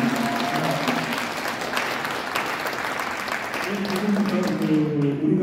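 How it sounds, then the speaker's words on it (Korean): A crowd at a political rally about a presidential impeachment applauds a speaker: loud, continuous clapping throughout, mixed with voices and some sustained vocal tones from the crowd. "큰 박수로 맞이합니다."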